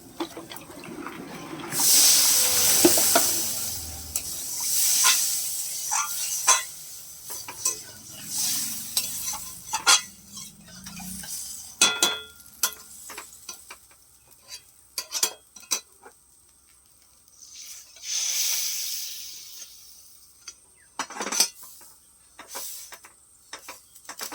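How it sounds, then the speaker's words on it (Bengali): Water splashes into a hot kadai and is swished and scrubbed around it, with bursts of hissing sizzle, clattering scrapes and sharp knocks spread over the whole stretch. The sounds are close and mostly steady, with quieter gaps between. "কড়াটাকে একটু ধুয়ে নেবো"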